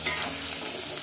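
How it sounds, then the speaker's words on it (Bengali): Onions frying in oil seasoned with salt and turmeric for a chicken curry, a brief, soft, even sizzle heard close with no voices. "প্রায় 30 মিনিট ভেজে নেবো পেঁয়াজটাকে"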